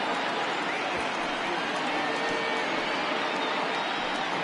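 A stadium crowd of over 39,000 on its feet in the baseball video game MLB The Show 20 roars in a dense, steady wash of cheering and noise that holds at an even level from start to finish.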